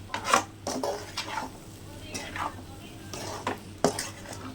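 Egg podimas being stirred with pepper powder in a pan, a utensil clinking and scraping against the metal in irregular strokes with a faint sizzle underneath, close and moderately loud.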